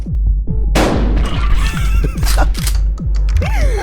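A shotgun fires in the video game Buckshot Roulette: one loud blast, followed by mechanical clunks and ratcheting, with a soundtrack playing underneath.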